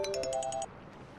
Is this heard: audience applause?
no